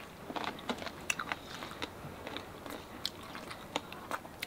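Crisp bites and crunchy chewing on charcoal-grilled giant stingray eaten bones and all, a string of sharp close crunches spread irregularly over a few seconds.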